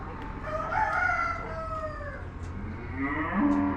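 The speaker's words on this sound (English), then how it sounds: "I thought that was a kitty. It's a rooster." A rooster crows nearby, a long rising and falling call, followed by a shorter second crow against a low background hum.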